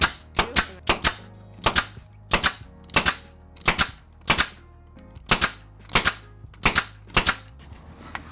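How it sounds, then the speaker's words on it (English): A staple gun drives staples through fabric ribbing into a wing back chair during upholstery, producing sharp, close snapping shots in quick pairs and triplets with short pauses between bursts. "So I'm using the ribbing and I'm going across this way to staple it"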